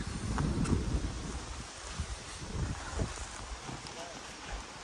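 Gusty wind sweeps across the River Ant at Sutton Staithe during a float-fishing session, a steady rough rumble and hiss with stronger buffets near the start and around the three-second mark.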